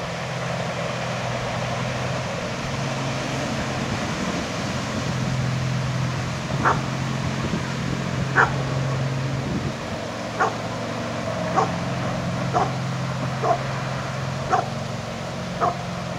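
A dog barks in a steady series of sharp, evenly spaced yaps out in the open by a lake, each bark distinct above a low rumbling background.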